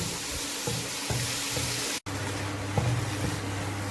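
Tomato, green chilli, carrot, cabbage, spring onion, onion and egg fry for masala Maggi with a moderate sizzle and a low steady hum. A brief dropout comes midway, followed by a few light utensil taps.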